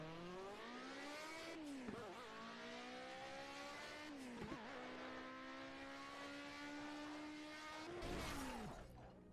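A Ford being crash-tested in the racing game Project Cars: a sustained engine drone with rising and falling revs, interrupted by several abrupt drops and bumps as the car hits and shifts, no talking.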